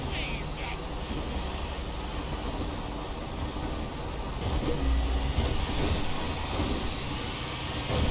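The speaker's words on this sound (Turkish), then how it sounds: "Tren geliyor. Trenle yarışacağım ben." A train rumbles past in the video game GTA 5, a steady dense roar with faint rail clatter that swells louder toward the middle, heard alone without talk.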